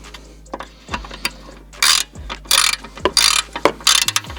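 Handheld ratchet clicking as nuts are tightened on the intake of a BMW F10 535i, several quick bursts of close, crisp metallic clicks separated by short pauses.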